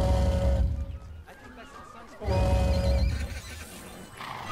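A small horse in the Disneyland Adventures video game gives two loud neighs separated by a short pause, with light clip-clopping and background game sounds.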